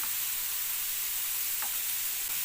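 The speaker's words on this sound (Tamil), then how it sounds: "கொஞ்சம் இந்த சிக்கன் மேலே லேஸாக எண்ணெய் ஊற்றிக்கலாம்" Chicken tikka pieces sizzle in oil in a pan with a steady, fairly quiet hiss that continues without pause.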